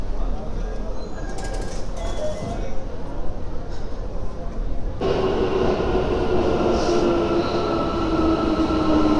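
An Istanbul metro train on the green line rumbles steadily, its tone shifting midway as the car speeds up and a rising whine from the motors joins the rolling noise.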